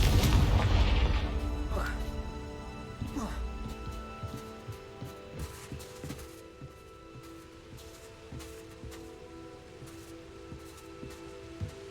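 A Confringo blasting spell from a Harry Potter video game bursts with a deep boom up front, then fades into a long crackling, rain-like patter of debris and echo, with a voice speaking briefly.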